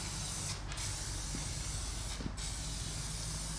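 Epoxy filler primer hisses from a spray can onto a CMP army truck engine in two short bursts, close and sharp over a steady background rumble.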